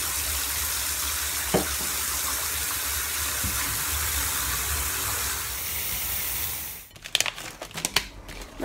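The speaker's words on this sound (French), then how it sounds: "elle m'avait demandé de me faire couler un bain" Water runs steadily into a bathtub being filled for a bath, a constant close rushing gush that continues for several seconds, then stops and gives way to a few sharp knocks and handling sounds.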